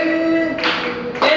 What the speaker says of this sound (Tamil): கைத்தட்டி உற்சாகமா இருக்க வேண்டாமா கர்த்தர் சமூகத்துல?